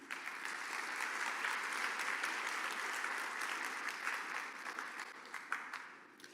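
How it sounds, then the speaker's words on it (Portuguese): A church congregation applauding during a sermon, sustained dense clapping at a low, distant level that stays steady before easing slightly near the end. "Dá um aplauso a Jesus."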